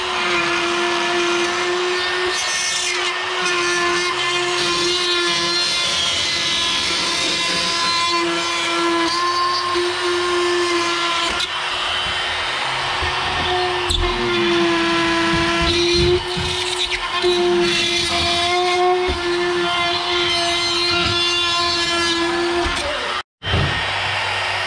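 A router cuts a circular opening in hung drywall for a light fixture, producing a loud, steady high-pitched whine with gritty cutting noise. It runs almost continuously, then cuts out abruptly near the end.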